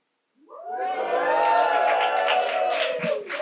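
A studio audience at a comedy news show cheers and whoops loudly after a short silence, a sustained roar of voices with scattered claps building and holding to the end.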